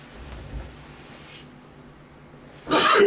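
A single loud, sharp sneeze bursts out near the end after a stretch of quiet room tone.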